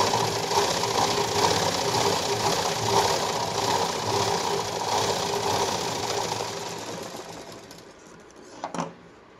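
A sewing machine runs a double line of stitching on a blouse with a fast, even whirring clatter that slows near the end and stops with a couple of mechanical clicks.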